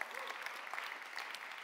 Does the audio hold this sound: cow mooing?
no